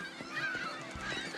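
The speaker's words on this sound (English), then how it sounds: "The seagulls are still here." Gulls calling in a quick, busy string of harsh honking cries, close and fairly loud, overlapping one another across the whole moment with no voices in between.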